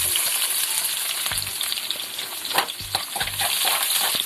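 Onions sizzle in hot oil for a tempering with dried red chillies, a loud continuous crackling fry with brief stirring scrapes of a spoon against the pan, close and steady with no talking.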